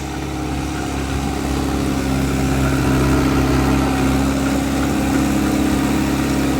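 A tractor engine idles close by, a loud, steady low rumble with a constant mechanical drone and no other sounds.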